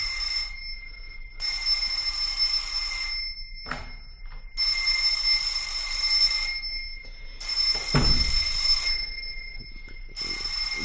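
An old-style telephone bell rings in repeated bursts, each a bright metallic trill separated by short silences, with a couple of faint knocks or thumps between rings and no talking.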